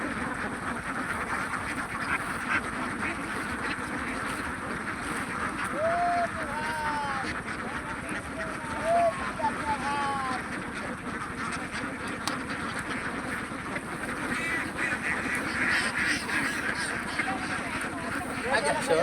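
Ducks on a 1,200-bird egg-laying duck farm quack in a steady, busy chorus at feeding time, with overlapping calls throughout and a person speaking over the flock.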